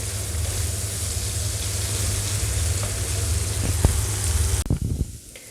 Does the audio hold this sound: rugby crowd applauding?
no